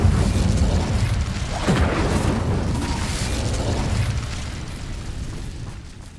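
A fiery Incendio spell cast in the Hogwarts Legacy video game, a loud, sustained burst with a booming, crackling rush that stays dense throughout and tapers slightly near the end, with no talking.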